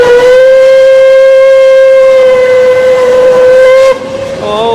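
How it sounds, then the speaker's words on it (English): Puffing Billy heritage steam train whistle in Australia, one long, loud, steady shrill blast held for about four seconds before cutting off, with a rich stack of harmonics and hiss trailing at the end. "Oh, that was the longest horn."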